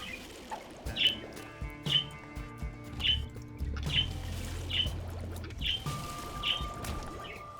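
Birds in the video game Binding of Isaac: Afterbirth+ give short, bright chirps about once a second, evenly repeated over a low game background.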